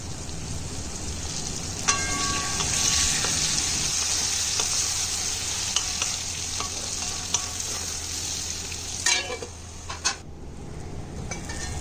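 Mango chutney sizzles gently in a pan while a spoon stirs it, scraping and clinking against the metal in scattered taps over a steady frying hiss.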